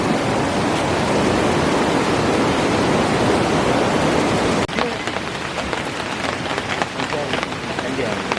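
Rain falls steadily on a deep forest campsite, a loud, dense, continuous hiss that shifts midway to a slightly lighter, patterings texture.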